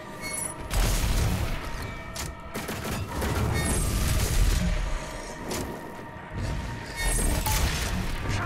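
Heavy, repeated gunshots in DOOM Eternal boom in quick succession, loud and close, with thick bursts and brief pauses between volleys and crashing impacts.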